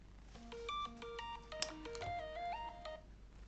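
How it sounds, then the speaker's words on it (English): A telephone ringtone signals an incoming call, playing a quiet melodic sequence of electronic beeping tones in a steady pattern with no talking. "I just got a phone call that I had to click away"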